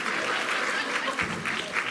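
Audience applause at a live evening stand-up comedy show in France, a steady wash of many hands clapping close by, dense and continuous with no voices over it.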